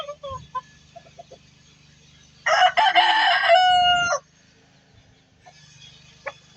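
On a farm, a rooster lets out one loud crow lasting a couple of seconds. Quiet scattered clucks and faint background noise come before and after it.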